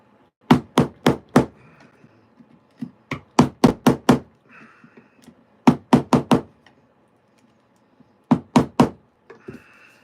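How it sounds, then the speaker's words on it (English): Mallet strikes on a chisel cutting into oak for custom table legs, arriving in tight bursts of three to five sharp knocks separated by short pauses, close and loud with no talking. "we are just chiseling out some oak, hoping to not mess up these table legs"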